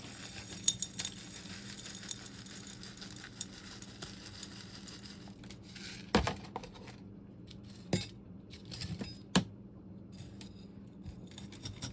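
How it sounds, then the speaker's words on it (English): Soil is worked gently into a bonsai pot with a metal gardening spoon, giving faint scraping and scattered light clinks and taps against a quiet background. "I'm just kind of gently working it in here with my gardening spoon"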